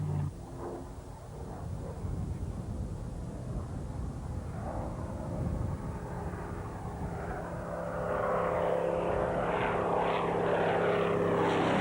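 A piston-engine, propeller-driven Spitfire flies at the Royal International Air Tattoo at Fairford, its engine drone building from a distant rumble into a louder, fuller roar as it nears.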